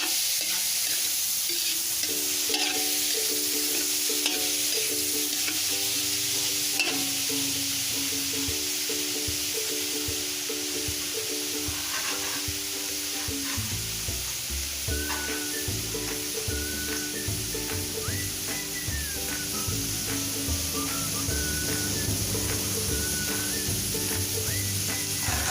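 Pork for Bicol pancit bato sizzles and fries in its rendering fat in a pan, a steady crackling hiss with occasional stirring scrapes and a faint tonal background hum.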